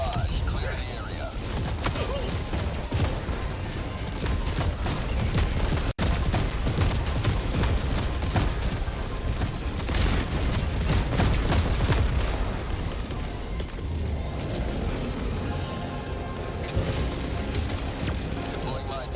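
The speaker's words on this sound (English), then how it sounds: "Firing orbital barrage." Dense, continuous barrage of explosions and gunfire from an orbital bombardment in Helldivers II, booming and rumbling without pause, with a voice speaking over the chaos.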